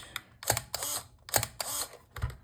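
A Canon EOS Rebel S film SLR, just repaired for sticky shutter blades, fires its shutter several times in succession, each release a crisp close-up mechanical clack followed by a whirring wind, with no talking.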